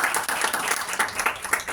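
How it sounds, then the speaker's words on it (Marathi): A college audience claps briefly at the close of a lecture, a dense burst of hand claps that rolls on evenly for under two seconds with no voices on top. "जोरात टाळ्या वाजवा"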